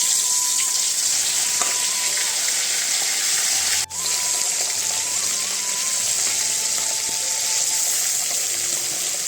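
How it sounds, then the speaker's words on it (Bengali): Fish frying in hot mustard oil in a heated kadai, a steady loud sizzle that holds throughout, broken once by a sharp clatter partway through. "আর মাছগুলো গরম তেলে দিয়ে দেব।"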